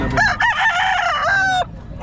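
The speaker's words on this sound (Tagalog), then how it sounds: "May dalang manok na inyo." A rooster at a busy pet market lets out one loud, close crow lasting about a second and a half, with a low background murmur around it.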